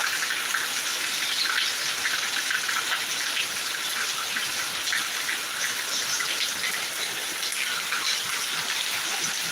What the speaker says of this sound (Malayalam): ഇതൊക്കെ നല്ല സൂപ്പറായിട്ടുള്ള മഴ കേട്ടോ അടിപൊളി മഴ